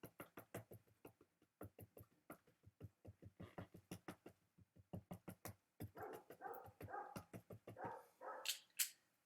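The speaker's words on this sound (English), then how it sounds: "can you hear the dogs barking?" Dogs bark repeatedly in fast, uneven bursts, some yips and whines mixed in, with the barking growing denser toward the end.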